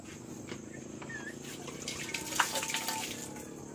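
Water running from a hand pump, a steady gushing flow with splashing bursts that swell toward the middle, over faint background noise.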